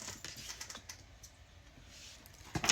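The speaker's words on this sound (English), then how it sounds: "Let's give the deck some shuffle." A deck of tarot cards is shuffled up close, producing soft, rapid clicking and riffling taps that thin out midway, then a louder burst at the end.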